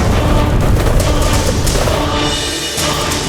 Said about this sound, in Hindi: वहां रखे समस्त दिव्य शस्त्र भयानक विस्फोट में भस्म हो गए।